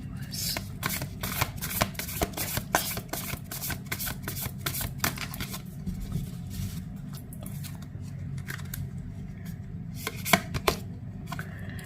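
Tarot cards being shuffled by hand in quick, crisp riffling bursts, a steady run of snappy card flicks over low background hum.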